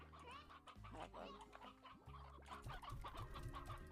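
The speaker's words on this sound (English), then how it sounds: "I'm surprised that these chickens are not gone yet." Chickens cluck repeatedly in the video game Slime Rancher, a busy run of short squawks and clucks over a low steady game hum, with no talk.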